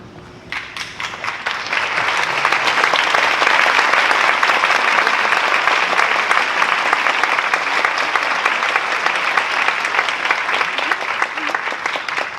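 Applause from a packed stadium crowd, a dense continuous roar of clapping that swells in over the first two seconds and then holds steady and loud throughout, with no talk over it.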